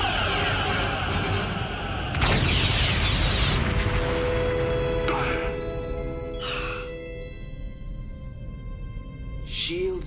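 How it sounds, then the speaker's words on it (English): A Star Trek starship fires its weapons, with a loud broadband blast followed by ringing sci-fi tones and a couple of shorter whooshing bursts as the sound settles. A voice may be present. "Weapons locked. Fire!"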